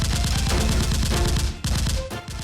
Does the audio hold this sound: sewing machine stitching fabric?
no